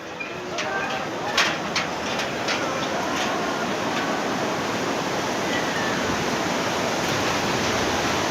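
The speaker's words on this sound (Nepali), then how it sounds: "झरना पुलमा छौँ" A waterfall on the Sera Khola stream at a footbridge on a hiking trail, a loud continuous broadband roar of falling water that stays steady throughout, close and dense, with a few faint voices in the background.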